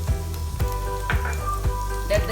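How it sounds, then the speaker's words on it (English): Onions, ginger, garlic, spices and slit green chilies fry in oil for mutton yakhni pulao, a steady close sizzle with a few soft stirring knocks repeating through the clip. "While this is frying, I am adding 4 slit green chilies."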